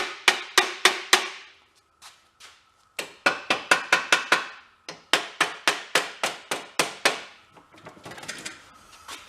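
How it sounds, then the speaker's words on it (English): A hammer strikes a rusted part on a VW Thing, landing sharp metallic blows in quick bursts of four to six hits, with short pauses between volleys and a scraping rattle near the end. "Sometimes you have to hit it with a hammer."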